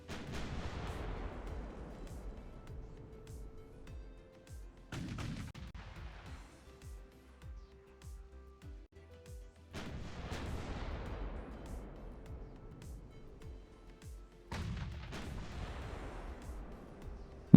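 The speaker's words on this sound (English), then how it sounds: "He didn't like those guns firing at him." Naval guns booming in the warship game Ultimate Admiral Dreadnoughts, four heavy salvos a few seconds apart, each a sharp blast trailing off into a long rumbling decay.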